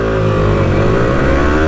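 A KTM Duke 200 and a Yamaha R15 v3 accelerating hard side by side in a drag race, engines revving loudly with rising whine as they pull through the gears, close and continuous.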